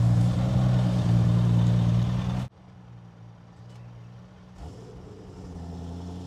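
Audi RS4 fitted with an RS6 engine, loud steady engine drone after a cold start that abruptly cuts to a much quieter low rumble, with a faint rise near the end.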